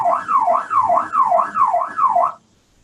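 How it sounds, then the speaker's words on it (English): An alarm tone played through loudspeakers during an urban noise-sensing demonstration, a loud rising-and-falling wail repeating about five times in steady rhythm before cutting off abruptly into silence. "Alarm sound coming from 150 degrees speakers."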